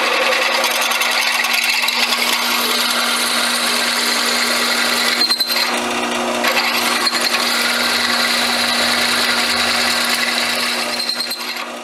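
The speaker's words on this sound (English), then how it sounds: "drilled up the two sizes." Steady drilling of a Kolt380 pistol barrel with drill bits, a continuous loud whirring grind with a sustained hum that holds for the whole stretch, dipping briefly midway before resuming.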